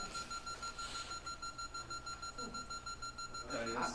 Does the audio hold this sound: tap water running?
no